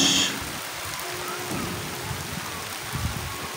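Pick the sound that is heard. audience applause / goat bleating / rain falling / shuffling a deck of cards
rain falling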